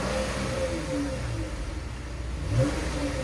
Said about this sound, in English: we got a 2013 Dodge Charger all-wheel drive.